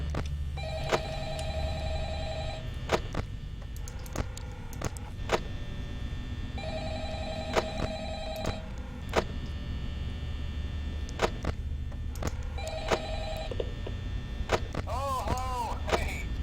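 Telephone ringing in the Five Nights at Freddy's game, with three separate bursts of repeated rings, each a quick run of trilling rings over low steady background hum.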